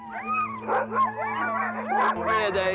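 Sled dogs bark, yip and whine eagerly in a noisy, overlapping chorus close by, with a steady low hum underneath.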